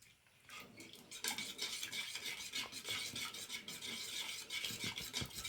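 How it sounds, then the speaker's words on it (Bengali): Rice flour being stirred into a soaked sago mixture in a pan, with a steady scraping and clinking of a spoon against the pot at close range, continuous for several seconds without talk. "এবার এই চালের গুঁড়োটা আমি সুন্দর করে এতে মিশিয়ে নেব"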